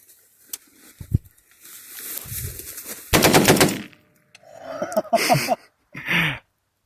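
BCA-10 gun firing a burst of rounds, loud and sharp near the mic, with a short pop first, then a dense rapid volley, followed by excited voices reacting.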